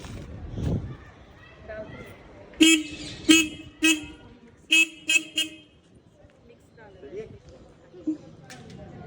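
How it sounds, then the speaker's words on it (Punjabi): A car horn gives several short, sharp toots in an irregular cluster, loud against a quieter background where people speak. "ਚੱਲ ਚਲੀਏ ਹਾਰਨ ਮਾਰਦਾ"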